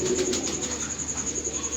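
Pigeons coo on a rooftop loft, a soft rhythmic series of low throaty calls repeating close by, with a steady high hiss in the background and no talking.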